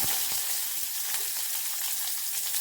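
Mustard seeds, cumin and onion sizzle hard in hot oil as a tempering for sambar, a steady dense crackle and spit that fills the whole stretch close up, with no voices.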